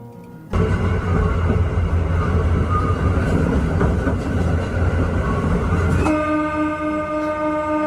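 A train roars past nearby, a loud, sustained rumble of wheels and cars that starts abruptly and holds steady. A horn-like tone sounds near the end, and there is no talk.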